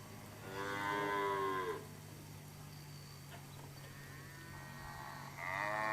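Cattle in a farm paddock let out two long, drawn-out moos, one early and one at the end, over a steady low background hum.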